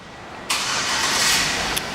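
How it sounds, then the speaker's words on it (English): A 2007 Chevrolet Tahoe LTZ engine, started by remote start, cranks and catches, settling into a steady close rumble after a brief quiet lead-in, with a small click near the end. "Let me show you the remote start."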